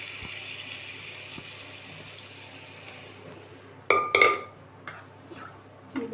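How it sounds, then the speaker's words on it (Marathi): Spinach cooked in a pressure cooker is stirred with a metal spoon in a pot. The stirring gives a few sharp clinks and scrapes after a stretch of quiet background hiss, heard up close with no talk. "चांगलं हलवून घ्यायचं।"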